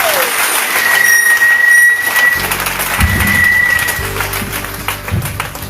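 A church congregation applauds and cheers loudly for the Lord, with a broad, steady wash of clapping that swells and holds throughout, with some brief tonal whines over it.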